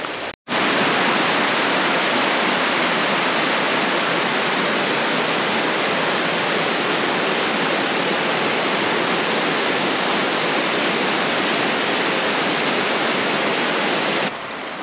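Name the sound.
waterfall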